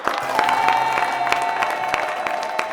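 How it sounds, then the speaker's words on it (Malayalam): Steady applause from a crowd, a continuous patter of clapping hands at moderate loudness without a break, with no talk over it. "ഈ കൈയടിയാണോ?"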